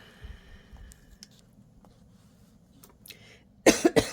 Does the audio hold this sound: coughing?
yes